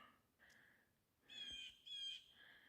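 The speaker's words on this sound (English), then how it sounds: "I think it is a loon" A few faint, wavering loon calls sound at a distance in the wilderness near Baxter State Park, drawn-out tremulous cries separated by quiet pauses, with no talking.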